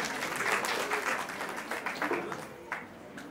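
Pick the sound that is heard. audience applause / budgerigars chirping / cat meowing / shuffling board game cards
audience applause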